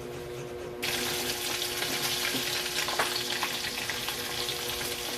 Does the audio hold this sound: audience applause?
no